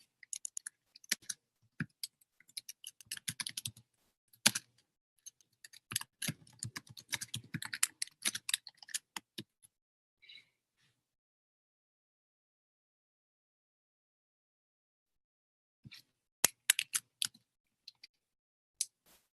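Fingers type on a computer keyboard in bursts of quick, close clicks, pausing for several seconds before a few final keystrokes.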